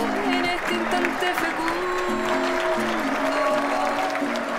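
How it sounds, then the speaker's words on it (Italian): An audience applauds for the Chilean artist Violeta Parra with steady, dense clapping throughout. Sustained tonal sounds and a voice run beneath the applause. "Un grande applauso."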